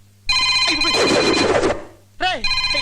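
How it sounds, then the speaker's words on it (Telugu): A telephone bell rings loudly nearby in a long burst, pauses briefly, then rings again; a voice briefly cuts in between rings. "ఎవడో వచ్చి ఫోన్ తీయండి రా."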